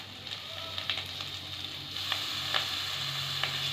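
Ground turmeric, Kashmiri chilli and coriander powders sizzle steadily in hot oil in a pan for a tangra fish curry, with occasional scraping stirs breaking through the continuous close frying hiss.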